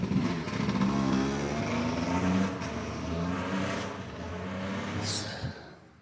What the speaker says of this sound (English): Love dirt bikes, but not while I'm filming, please.